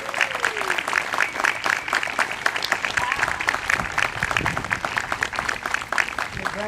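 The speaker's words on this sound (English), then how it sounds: "Let's give this city a round of applause." A crowd at a civic award event for Muskegon, Michigan applauds steadily, a dense wash of clapping that holds at an even level for several seconds.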